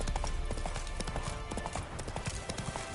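Roach, a horse in the video game Witcher 3, gallops with rapid, continuous clip-clop hoofbeats, loud and close throughout, over a busy game backdrop.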